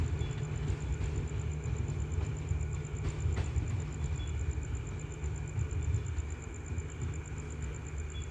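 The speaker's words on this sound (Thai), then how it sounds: "ขบวน 32 ออกไปแล้วความเงียบเหงาก็กลับมาอีกครั้งหนึ่งนะครับ" Thai southern line train number 32 departs a station at night, a steady low rumble of railcars and engine rolling continuously, with a faint high electrical whine over it.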